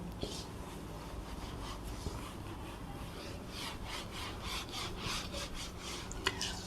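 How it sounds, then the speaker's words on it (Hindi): An eraser rubbing writing off paper in repeated quick scrubbing strokes, close and fairly quiet, with a few small taps between the strokes. "तो मैं इसे रब करता हूं"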